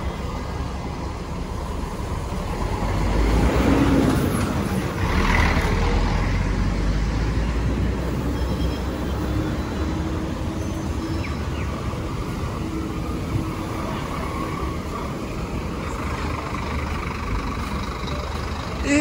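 An Anápolis coach bus pulls into the Belo Horizonte bus station, its diesel engine a low idling rumble that swells briefly nearby before settling into a steady hum amid station ambience.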